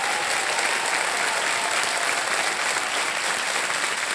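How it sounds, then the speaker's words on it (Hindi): A studio audience on the Hindi quiz show Kaun Banega Crorepati gives loud, sustained applause to welcome contestants, a thick, even wash of many hands clapping at once with no gaps. "जोरदार तालियों के साथ इनका स्वागत"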